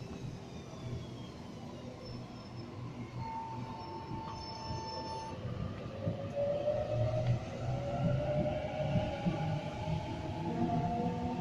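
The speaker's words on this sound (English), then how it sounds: "And Waratah set A77, now departing." A Sydney Waratah A-set electric train pulls out of a station during the evening peak, its low rumble slowly building while wheels squeal and motors whine in rising tones, heard from the platform.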